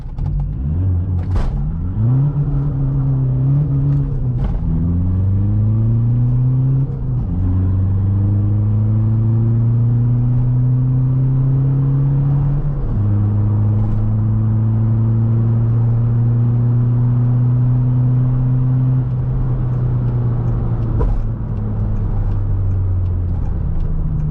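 A Mk4 1.9 TDI wagon launches hard with wheel spin, its diesel engine droning loud and close as revs climb through several gear changes, each shift dropping the pitch before it rises again, with no talk.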